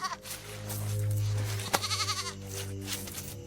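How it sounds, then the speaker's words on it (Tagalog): A goat screams and bleats loudly while being dragged, its voice strained and continuous with a low droning hum underneath, breaking into shorter wavering cries toward the end. "May tumitiling kambing at hinihila niya ito."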